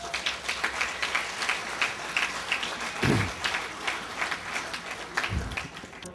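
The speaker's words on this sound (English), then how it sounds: "I think just that alone needs a round of applause." An outdoor audience at a surfing walk of fame induction ceremony breaks into a round of applause, steady mid-level clapping with scattered whoops, and a couple of brief low thumps midway.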